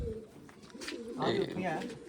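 Pet racing pigeons coo in low, soft throaty bursts close by, while a person talks over them.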